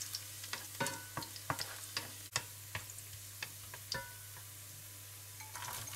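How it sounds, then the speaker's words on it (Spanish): Garlic fries in hot oil in a pan for a Castilian garlic soup, a quiet steady sizzle with sharp crackles and pops scattered throughout, close up. "El aceite ya lo tenemos caliente y los freímos"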